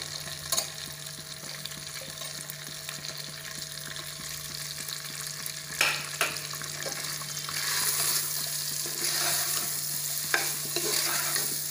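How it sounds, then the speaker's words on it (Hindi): Three medium chopped onions fry in a pan for mutton chaap cooked without oil, a steady sizzle with scraping stirs and clinks, growing louder and busier toward the end, no talking. "इस प्याज को हम इसमें फ्राई करेंगे।"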